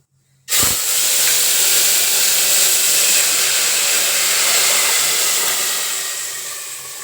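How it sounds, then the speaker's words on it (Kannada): Spices dropped into very hot cooking oil set off a sudden loud, steady hiss of sizzling that holds strong for several seconds and then slowly fades, with no talking over it. "ಈ ಥರ ಎಲ್ಲ ಮಸಾಲೆನ ಹಾಕ್ಕೊತೀನಿ. ತುಂಬ ಎಣ್ಣೆ ಕಾದ್ಬಿಡ್ತು."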